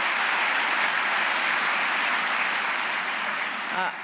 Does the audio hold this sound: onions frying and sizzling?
no